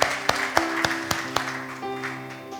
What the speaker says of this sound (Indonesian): kasih tepuk tangan dong sekali lagi buat Bapak-Bapak